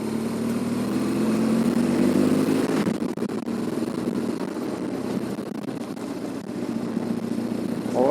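A BMW 1200 GS DOHC motorcycle engine pulls in fourth gear from around 2000 rpm, a steady low drone with rushing wind that thins out midway and then builds again.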